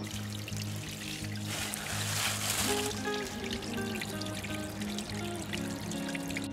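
Water from a backyard garden waterfall trickles and pours steadily at close range, a continuous splashing wash with no speech over it.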